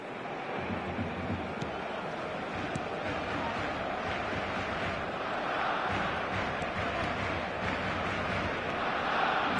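Stadium crowd in a football video game roars steadily after Roberto Carlos tries a shot, a broad continuous wash of distant cheering and murmur that stays fairly even throughout.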